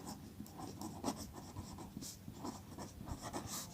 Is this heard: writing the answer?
yes